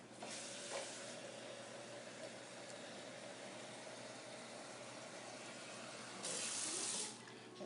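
Water poured into a pressure cooker while making chicken noodle soup: a steady, close rushing stream with no pauses for about seven seconds, swelling briefly louder near the end.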